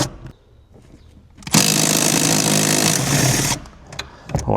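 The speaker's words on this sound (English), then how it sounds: "So now we need to undo a nut here and then a nut on the opposite side." Power tool on a nut on a Honda Fit, one loud continuous two-second burst of whirring, with quieter clicks and handling sounds before and after.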